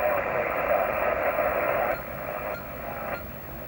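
Band noise on 40 meters comes through a Kenwood TS50HF HF transceiver as a steady hissing static wash, moderately loud and close, with a drop in level partway through and faint tonal blips, and no talk.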